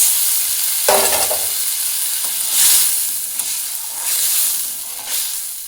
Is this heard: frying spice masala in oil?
yes